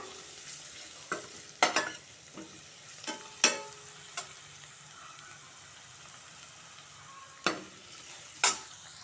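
Turmeric powder and softened onions sautéing in a pan for an instant chicken gravy, a soft steady sizzle with several sharp scraping stir strokes of a spoon against the pan, close and alone.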